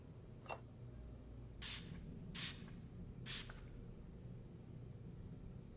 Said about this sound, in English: Anna, spray the wall with luminol.